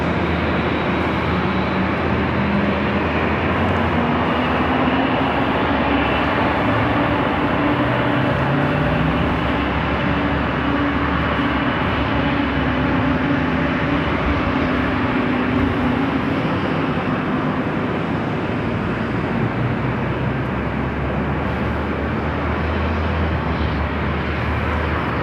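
An Avianca airliner taking off from runway 24 left at Los Angeles International Airport, a loud, continuous jet engine roar with a broad rumble that holds steady throughout, heard at a distance without talking.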